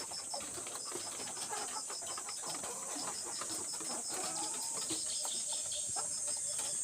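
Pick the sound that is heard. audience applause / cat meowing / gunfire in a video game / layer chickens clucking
layer chickens clucking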